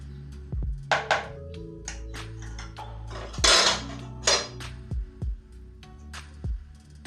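A spoon clanks and taps against a metal bowl while mashed potato filling is mixed with turmeric and ground red chilli for aloo kachori, irregular sharp knocks spread across, close up with no talking.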